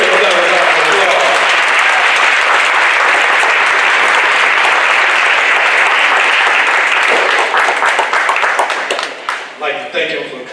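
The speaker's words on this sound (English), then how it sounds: "Come on, let's give him another round of applause." Loud, sustained applause from an audience at a fatherhood awards ceremony, dense clapping filling the room for about nine seconds before thinning out, with some voices mixed in.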